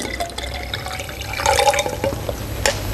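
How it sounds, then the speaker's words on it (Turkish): Water is poured from a container into a small water turbine setup, producing a close, continuous splashing and trickling with some brief drip-like accents, with no talking. "Aşağıdayken suyu dökeyim."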